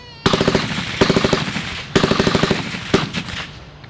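Browning M1919A4 air-cooled light machine gun of World War II firing at a close assault demonstration: four loud, close bursts of rapid automatic fire, each a tight string of sharp reports with echo trailing between bursts.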